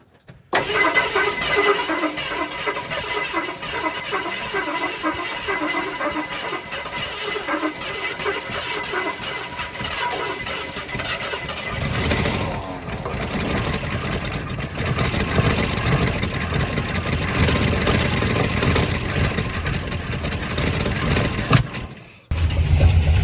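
A 1969 Ford F100 engine that sat unused for about 19 years cranks and catches, then settles into a loud, steady, rough idle that carries on for twenty seconds before it cuts off abruptly.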